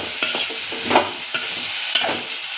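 Drumstick (moringa) pieces cook in a pan with turmeric and salt, giving a steady close sizzle broken by a few sharp stirring scrapes.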